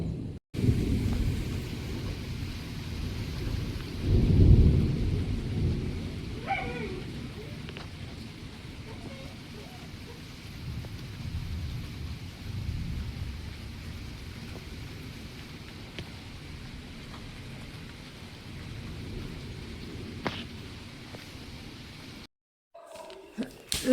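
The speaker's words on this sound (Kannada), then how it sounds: "ನೋಡಿ ಜೋರು ಗುಡುಗುಂಟು।" Thunder rumbles loudly through a monsoon storm, with a heavy burst early on and further rolls later, over a steady bed of rain and wind; faint voices are present now and then.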